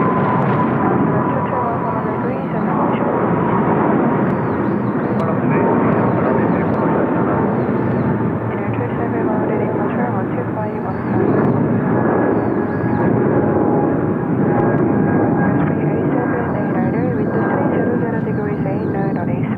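Heavy jet airliners roar on the runway at Incheon Airport in Seoul, a broad, continuous rumble that holds loud and steady throughout.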